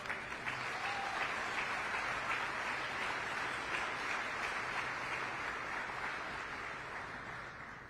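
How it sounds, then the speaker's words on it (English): Steady crowd applause at a Pittsfield event celebrating the Berkshire Family YMCA staff, broad continuous clapping from a gathered audience that holds evenly and fades slightly toward the end. "A round of applause for these folks."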